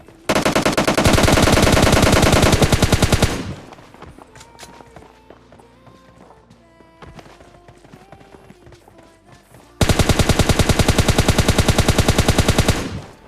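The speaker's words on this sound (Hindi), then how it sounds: "उसकी गोलियां भी चली आ रही हैं" Gunfire in a battle royale shooter video game with an M24 rifle in solo play: two long bursts of loud, rapid automatic fire, separated by a quieter stretch of footsteps and game sounds.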